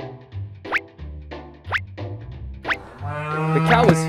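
Cartoon cow in a children's animation, several short bouncy sounds in a quick rhythm followed by a longer, louder wavering moo-like call at the end.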